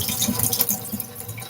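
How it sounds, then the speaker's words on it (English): Water drains and drips from grain on its third rinse, a steady close trickle and patter running the whole short stretch with no talking. "The third rinse, and water's starting to come out clearer now."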